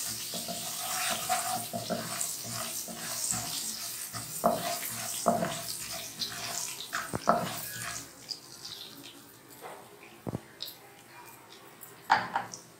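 Garam masala frying in a little oil over a raised flame for Kashmiri kofta, a soft sizzle broken by scattered clinks and stirring knocks, with a voice speaking intermittently.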